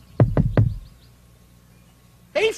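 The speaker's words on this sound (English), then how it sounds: "I'll just knock on the door and see if she's in." Three firm, evenly spaced knocks on a door, close and hollow, followed by a pause and then a brief burst of a voice.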